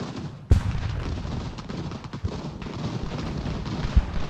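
A sharp artillery boom from a cannon in the Revolutionary War strategy game Ultimate General: Revolution, one loud crack early on followed by fainter distant shots and rumbling battle noise.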